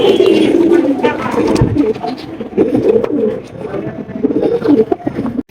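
Pigeons cooing at a pigeon sale with over 200 pairs: several birds produce continuous overlapping throaty coos, close and loud, with faint human voice in the background.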